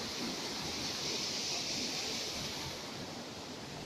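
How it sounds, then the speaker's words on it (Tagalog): Broad steady rush of a waterfall in Sagada, loud and continuous, with constant spray filling the air and no voices over it. "See that beautiful waterfalls."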